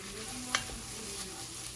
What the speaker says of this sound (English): Make sure you stir it well. You don't want the bottom to burn